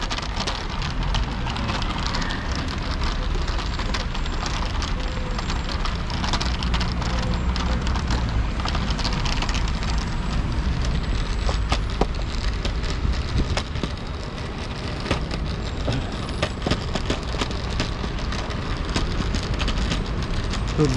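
Small electric scooter wheels rattling continuously over a potholed, cracked Soviet-era asphalt sidewalk, a steady dense rumble and clatter with sharp jolts, heard close and alone.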